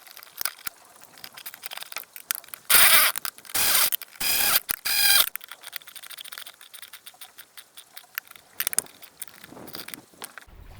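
Ratchet working the bolts off a jet ski impeller pump, with bursts of rapid clicking and longer loud stretches of ratcheting between quieter mechanical handling.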